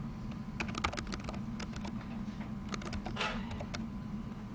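Irregular keystrokes tapped on a computer keyboard during programming, fairly close and clear over a steady low electrical hum, with brief pauses between bursts and no voices.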